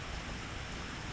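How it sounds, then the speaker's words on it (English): Rain falls during a morning rainstorm, a dense, even hiss of drops that carries on without pause and with no voices. "it's been raining"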